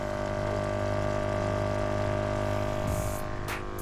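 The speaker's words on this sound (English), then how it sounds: "You hear it bubbling, and there's your bubbles." Frabill aerated bait bucket with its aerator pump running in water, giving a steady, close hum and continuous bubbling with no talk over it.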